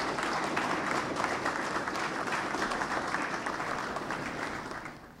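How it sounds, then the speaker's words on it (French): Sustained applause from members gathered in a Masonic lodge assembly, a dense steady wash of many hands clapping for several seconds that tapers slightly toward the end. "je demande spécialement à l'atelier des applaudissements"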